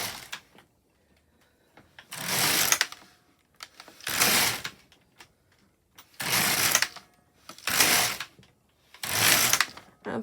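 An LK150 knitting machine carriage slides across the needle bed in five long rasping passes separated by short quiet pauses, close and with no talk.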